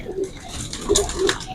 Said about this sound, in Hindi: ये भी बहुत अच्छे और लाजवाब कबूतर है दोस्तों